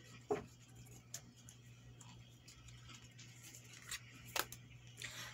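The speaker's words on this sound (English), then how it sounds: "I'm going to take my scissors just to pop it open." Several brief, sharp snips and clicks, a few seconds apart, close by over a faint steady hum, as scissors cut open the packaging of a coffin-shaped subscription box.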